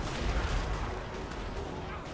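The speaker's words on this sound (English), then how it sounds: "and hell cannon sporadic fire in there" Hell cannon artillery fire in a Total War: Warhammer battle, a dense, steady rumble of booming shots and crashes running throughout with no clear gaps.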